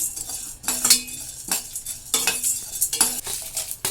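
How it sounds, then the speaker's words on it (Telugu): Urad dal, moong dal, coriander seeds, cumin and fenugreek roast in a dry pan for curry leaf powder, with a spoon scraping and clinking against the metal in several short, close bursts and faint crackle between them. "మినప్పప్పు కొంచెం పెసరపప్పు కొంచెం ధనియాలు జీలకర్ర మెంతులు అన్నీ ఒకటి తర్వాత ఒకటి వేయించుకుందాము"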